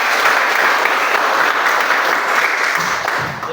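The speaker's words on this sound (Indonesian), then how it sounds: "Tepuk tangan kita semua." Loud applause from a group at a school teaching session after a closing prayer, sustained dense clapping that thins out slightly near the end.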